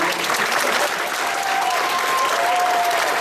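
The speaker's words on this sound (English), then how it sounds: "Let's stand up once again to our feet. Our union clap." A crowd applauding steadily, dense continuous clapping from many hands filling the room at an even level without pause.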